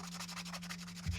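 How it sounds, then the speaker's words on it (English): Very fine sandpaper rubbing a custom guitar part to smooth sharp edges and file marks: soft, quiet, rhythmic back-and-forth strokes over a steady low hum. "I'm just going to get a little bit of very fine sandpaper just to take off any little"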